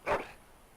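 A Mabari war dog in the Dragon Age Origins video game gives one short, happy bark, close and clear, then quiet.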